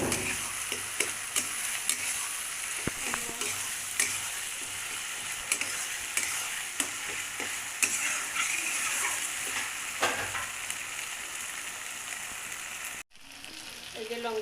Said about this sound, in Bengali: এই যে টমেটো কাটাটা দিয়ে দিলাম,